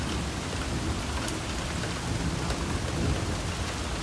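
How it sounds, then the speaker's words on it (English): Rain and a thunderstorm heard from a porch at a farm near the Oklahoma Panhandle: a steady, dense hiss of falling rain with a low rumbling undertone, continuous and without voices. "Now it is starting to rain."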